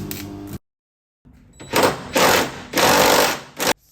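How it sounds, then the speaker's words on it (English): Arc welding bursts from stick welding on a rusty Mitsubishi Evo 8 under restoration, loud close crackling and buzzing in several sustained runs separated by short pauses, with a brief silent gap early on. "Stick weld now."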